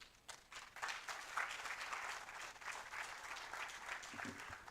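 Soft, fairly distant audience applause after a science conference presentation swells quickly, holds as a dense patter, and thins toward the end.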